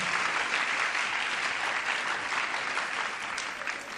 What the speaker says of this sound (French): Merci de l'applaudir, s'il vous plaît.